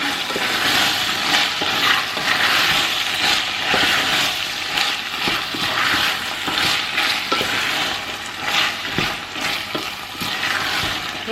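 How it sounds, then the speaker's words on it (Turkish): Borlotti beans being stirred into a pot of olive-oil bean stew, giving a steady, close sizzle with soft scraping and stirring movements throughout, no talk. "Şimdi içerisine barbunyaları ekliyorum. Tekrar bir karıştıracağım."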